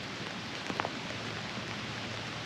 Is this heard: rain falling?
yes